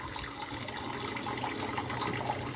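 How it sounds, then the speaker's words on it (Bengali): Tap water runs steadily into a sink while fish is washed in a home kitchen, a continuous close splashing gush with no talking. "মাছটা ধুতে হবে।"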